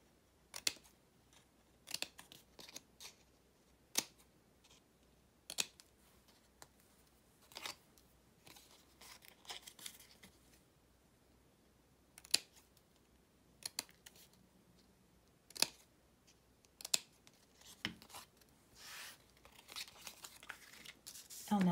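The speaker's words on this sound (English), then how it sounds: "So I've cut those two, turn the paper, and then cut these two." Scissors cutting paper flaps for a handmade gift box, a series of short crisp snips spaced a second or two apart with light paper rustling between, close up on a quiet background.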